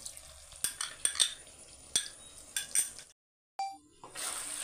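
A spoon stirring arrowroot slurry into chilli chicken in a pan: several sharp metallic clinks and scraping stirs at an uneven rhythm, close and moderately quiet, then a brief silence and a soft sizzle.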